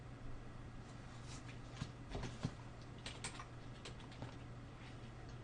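Computer keyboard keys tapped in quick irregular bursts, fairly close and quiet over a steady low hum, with no voices.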